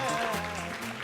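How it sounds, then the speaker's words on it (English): Audience applause at a 2014 salon hair show, a steady wash of clapping that blends with tonal sound and a voice, holding at an even level for about a second. "Give me a round of applause."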